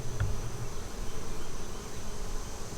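A steady, close buzzing of many honeybees on a hive frame hums continuously, with a brief soft knock near the start.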